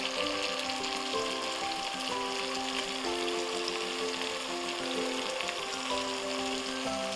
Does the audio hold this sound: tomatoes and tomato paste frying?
yes